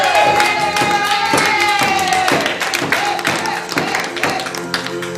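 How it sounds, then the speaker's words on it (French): Wrestling event audience clapping for wrestler Brett Smith's entrance, a steady rhythmic handclap from a crowd mixed with loud entrance music, fairly close and continuous. "Mesdames, messieurs, je vous demande de l'applaudir. Brett Smith."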